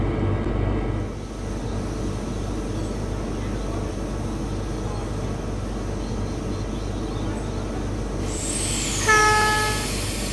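A train rumbles steadily through Blacktown station's platform 6 without stopping, a loud continuous roar of wheels and carriages close by, ending with a brief horn or squeal as it clears the platform.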